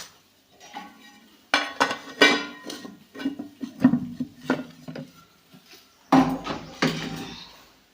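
A spoon stirs turmeric and peanut powder into cooked greens in a metal pot for a North Karnataka leafy-green curry, giving close clinks and scrapes against the pot in irregular bursts with brief pauses.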